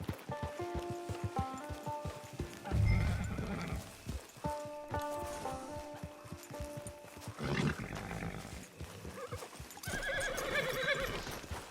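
Horse hooves clip-clop and a horse neighs in the Red Dead Online game world, with steady hoof beats broken by loud whinnies and layered over a sustained musical score.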